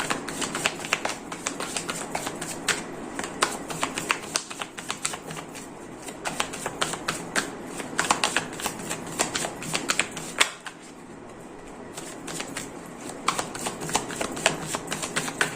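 A deck of tarot cards is shuffled close by in a fast run of crisp riffling clicks and flicks, with a brief pause partway through before the shuffling picks up again.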